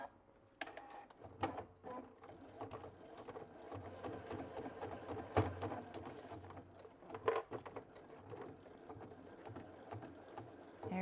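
A Baby Lock sewing machine works through thick tote bag fabric in short, uneven bursts of stitching with clicks and pauses, fairly quiet and close, with no talking.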